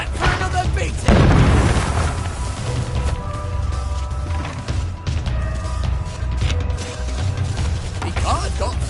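A grenade goes off in the video game We Happy Few: one loud booming blast about a second in, followed by a rumbling game soundscape with mechanical noises and occasional voices.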